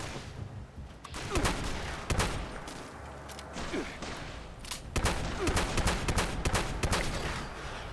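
Weapon fire from the video game Fallout 76, a dense run of sharp bursts and volleys layered over a constant busy game backdrop, loud and sustained across the whole stretch.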